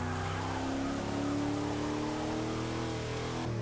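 A steady, continuous engine drone from a 1967 car in Forza Motorsport 6, with shifting tones as it accelerates and a slight change in pitch near the end.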